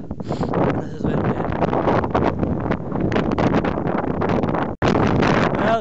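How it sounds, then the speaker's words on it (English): Strong, steady wind buffets the microphone in a continuous loud roar, briefly dropping out for a moment near the end before gusting again. "it's rather windy up here"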